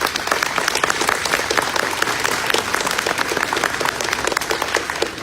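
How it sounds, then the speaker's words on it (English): Sustained applause from a crowd honoring employees at a ribbon cutting for a local commercial printing business: dense, steady clapping that runs loud throughout with no talk. "I think they all deserve a round of applause."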